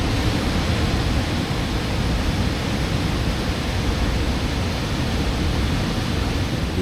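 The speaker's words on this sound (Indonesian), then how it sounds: "Jadi ini di sini suasananya hening banget, cuman terdengar suara air terjun aja." Waterfall at Canging Waterfall in Bali at night, a steady, dense roar of falling water that stays loud and unchanging throughout, with no other sounds on top.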